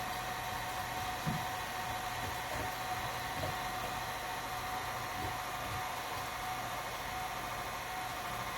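An electric mixer blends banana bread batter with oil, giving a steady, even motor hum that stays constant and fairly quiet throughout, with a few faint bumps.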